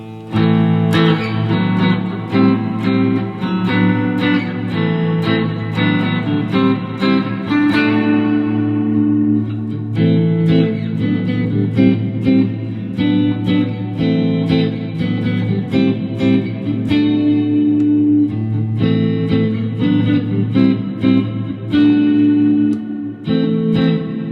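Clean electric guitar tones from a Greco versus Gibson Les Paul through a clean concert patch with effects, played steadily as chords and melodic lines with reverb and chorus, loud and alone without talk.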